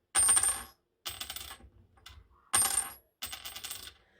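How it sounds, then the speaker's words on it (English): Steel coin dropped repeatedly on a hard surface, with four sharp metallic impacts followed by brief rattling bounces, close up and alone without speech. "One is silver, and one is actually steel. Both of them make a very different sound when, let's say you try to drop it."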